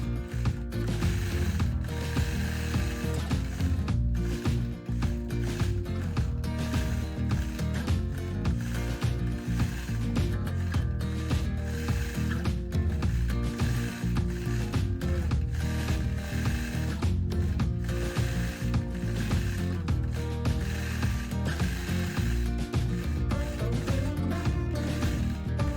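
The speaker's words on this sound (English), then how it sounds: "I'm stitching here on my Gamel 22-inch machine" A Gammill 22-inch longarm quilting machine stitches a quilt's background in free motion, with a loud, rapid, continuous mechanical chatter of needle and gears that holds steady throughout and has no talk over it.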